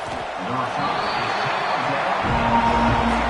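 Roaring crowd noise fills a college football sim game, Ohio State facing an FCS opponent, a dense sustained stadium din that swells louder toward the end, with a voice talking over it at first.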